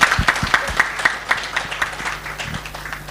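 A conference audience at the ANAPRI stakeholder meeting applauds Professor Innocent, a moderate crowd clapping in a loose, irregular patter that thins out and fades toward the end.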